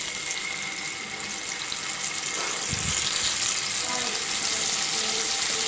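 Marinated paneer goes into hot oil in a pan, and a constant hissing sizzle follows. It is loud and close and swells briefly as the pieces land, with a voice speaking faintly in the background.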